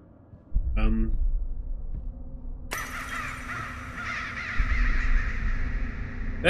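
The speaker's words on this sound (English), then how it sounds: "those are definitely birds" Crows caw loudly and repeatedly in the Layers of Fear VR video game, harsh calls layered over a low rumbling ambience, with a voice speaking partway through.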